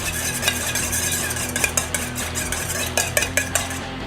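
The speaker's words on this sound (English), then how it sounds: "Grab our spoon," A spoon stirs Hawaiian poke sauce with chili garlic sauce and aminos in a bowl, making a continuous soft swish with light clinks of metal on the dish near the close.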